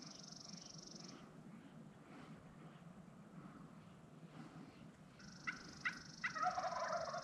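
A wild tom turkey gobbles during an Oregon spring turkey hunt, with a few short bursts near the end standing out over a steady outdoor background hiss; the bird sounds moderately distant rather than close.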